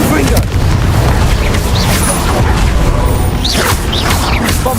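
Spell casts and explosions in the video game Hogwarts Legacy, loud and continuous booms, bursts and whooshes stacked densely through the whole stretch, with a voice mixed in.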